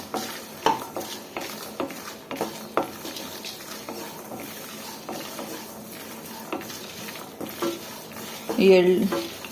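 Chillies fry in a pan until crispy for a bitter gourd gojju, with a light sizzle and repeated scrapes and taps of a spatula against the pan, close, plus a brief clatter near the end.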